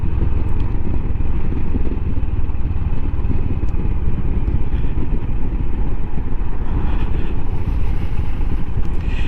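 A Royal Enfield Himalayan motorcycle on an evening ride, with a constant engine drone and heavy wind rush throughout, loud and close with no talk.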